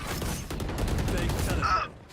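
Rapid bursts of Valorant gunfire from an RRQ versus GEN.G professional match playing at a watch party, a dense string of sharp shots for about a second and a half under loud, busy talk, then fading.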